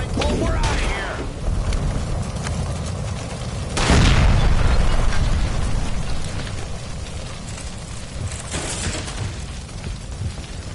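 Gas line blowing up in the video game L.A. Noire, a deep booming burst at about four seconds that rumbles on and fades over steady low game noise, with a lighter thump later.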